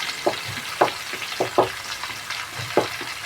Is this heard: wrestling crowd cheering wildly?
no